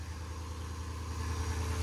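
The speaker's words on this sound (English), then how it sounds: "I'm going to start my truck again" A Jeep truck engine idles steadily, a low continuous rumble with faint fluctuations, heard alone at moderate distance in a muddy off-road setting.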